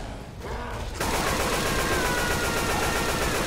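Video game gunfire crackles in a dense, continuous burst of rapid shots, quieter at first and then loud and sustained from about one second on, with no talking.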